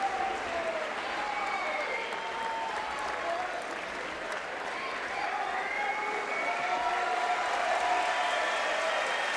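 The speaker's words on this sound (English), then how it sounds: "Really appreciative, this crowd." Arena crowd at a judo Grand Slam in Tel Aviv applauding steadily after a throw, a dense, sustained wash of clapping with some scattered voices mixed in, fairly loud and continuous throughout.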